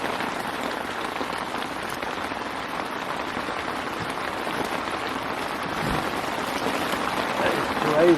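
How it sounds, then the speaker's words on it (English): Heavy rain pours down steadily at a carp fishery, a dense, continuous hiss of drops that swells slightly louder toward the end. "What a downpour."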